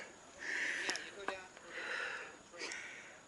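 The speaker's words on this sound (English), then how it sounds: "Sorry for the panting. The air is really thin up here." Heavy, rhythmic panting breaths close to the microphone at high altitude near a mountain tram, several breathy inhales and exhales in a steady cycle with no other sound.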